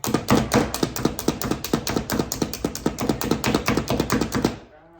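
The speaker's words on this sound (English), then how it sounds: "Our onions all cut up." A knife chops onions on a cutting board in a steady run of sharp, close taps, about twenty quick strikes, then stops abruptly into near silence.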